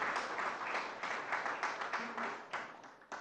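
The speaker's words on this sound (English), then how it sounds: "join me in welcoming him with a round of applause" Applause from a crowd, steady clapping filling the room for a few seconds, fairly loud and continuous.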